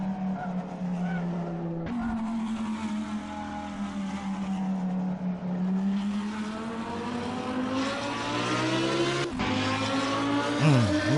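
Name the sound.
V12 or V10 supercar accelerating in video game Assetto Corsa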